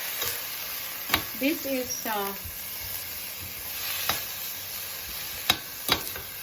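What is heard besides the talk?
stirring pork in a cooking pot for tinola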